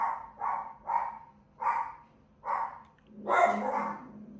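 Dogs bark in a series of about six sharp, mid-distance barks spaced roughly half a second apart, the last ones running together, with no talk over them in a quiet indoor room.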